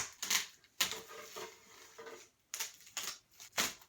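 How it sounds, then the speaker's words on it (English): Plastic wrap is torn and peeled off a new skateboard with car keys, coming as sharp close crackles and rips in irregular bursts with short quiet gaps between them. "There's really nothing like taking the plastic off of a new product."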